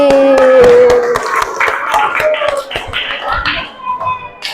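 Children in a classroom clap their hands for a classmate named Haris: close, uneven bursts of clapping mixed with children's voices and chatter, fading toward the end.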